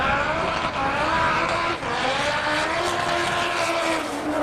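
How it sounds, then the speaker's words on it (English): A Honda Civic accelerates hard down a drag strip, its engine roaring loud and steady with a rising, strained tone and no talking. "we have a Honda Civic getting ready to go down the strip."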